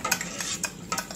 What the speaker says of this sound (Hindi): अब थोड़ी देर के लिए इसे अच्छे से मिलाएंगे।